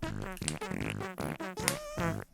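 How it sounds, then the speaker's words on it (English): A Christmas tune played on a bum trumpet instrument, a quick run of buzzy, fart-like blown notes with a wobbling, tonal quality, loud and close. "The instrument is listed as the bum trumpet"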